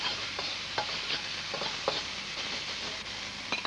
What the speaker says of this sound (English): Stir that around very quickly, because I don't want this to burn.